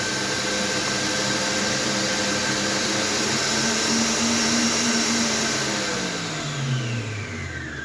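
An electric mixer whisks ten eggs for a plain sponge cake batter, a steady loud whirring drone that holds its pitch throughout, with the motor tone dipping slightly near the end.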